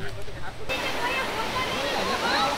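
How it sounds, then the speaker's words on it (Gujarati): Jatashankar waterfall near Junagadh, a stream dropping from above, gives a steady, dense rushing roar close by, with faint voices blended into the water noise. "આખે આખું આ ઝરણું છે ને એ ઉપરથી જ પડે છે"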